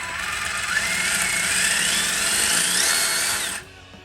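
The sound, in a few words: Tamiya Holiday Buggy RC electric motor running break-in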